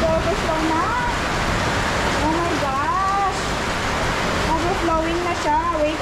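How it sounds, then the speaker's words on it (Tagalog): Water overflowing and flowing out behind a house in a Philippine backyard garden, a steady loud rushing wash like a small waterfall running continuously, with someone talking over it. "Ayan, oh, nag-overflow na."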